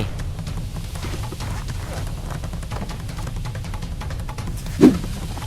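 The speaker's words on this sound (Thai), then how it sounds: "มีเสียงเท้าวิ่งตามมาติดๆเลยครับทุกคน" Running footsteps patter in a quick, steady rhythm in the shooter game Arena Breakout, fairly close and continuous, with a single sharper thump near the end.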